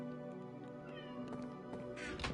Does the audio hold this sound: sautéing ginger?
no